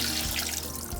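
Water gently poured off floating pea skins in a bowl, a short soft splashing trickle close to the microphone.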